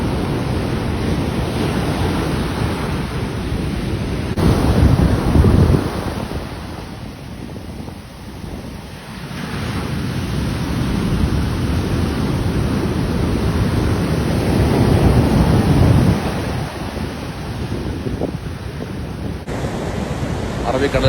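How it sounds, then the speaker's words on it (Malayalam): Arabian Sea surf pounding Payyanur beach, a steady roar of breaking waves with surges of crashing water, buffeted by wind noise on the microphone and no talk. "തിരമാലകൾ ആഞ്ഞടിക്കുന്നുണ്ട്"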